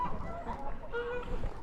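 Roosters kept in farm pens give short honking, clucking calls, several overlapping close by in a brief burst of fowl noise.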